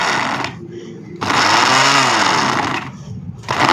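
A kitchen grinder jar blends frozen mango with ice in loud, close motor bursts, first briefly, then a longer run with a churning whine, with short pauses between bursts.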